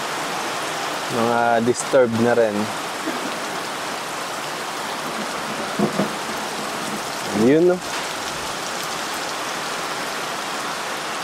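Steady rain falls at an outdoor pond construction site in Arayat, Pampanga, making a continuous hiss over the whole stretch while people speak briefly over it.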